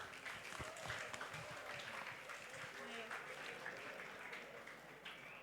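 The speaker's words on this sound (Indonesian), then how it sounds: "Mari kita beri tepuk tangan yang meriah." Applause from an audience at an Isra Mi'raj religious gathering, a steady, fairly faint wash of clapping lasting several seconds with murmuring voices mixed in.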